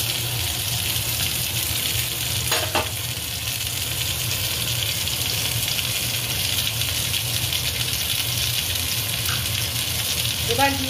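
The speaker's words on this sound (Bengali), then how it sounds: "কড়াইতে তেল আগেই গরম করতে দেওয়া ছিল, আর তার মধ্যে জিরে তেজপাতা ফোড়ন দিয়ে এবার ভেজে রাখা ফুলকপি আর ভেজে রাখা আলু দিয়ে" Pre-fried cauliflower and potato sizzle steadily in hot oil in a wok tempered with cumin and bay leaf, a close, continuous hiss running throughout, broken by a couple of brief scraping knocks from stirring, with no voices.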